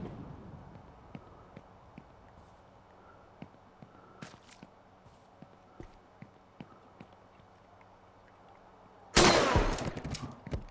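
In the Horror Tales: The Wine video game, a single loud gunshot bursts out near the end after a stretch of quiet footsteps and faint ambience.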